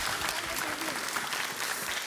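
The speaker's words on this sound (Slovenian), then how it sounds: "en velik aplavz za osnovno šolo Doktorja Mencigorja iz Bohinjske Bistrice" Applause for a primary school team from Bohinjska Bistrica at a televised quiz game, steady dense clapping from a crowd for about two seconds.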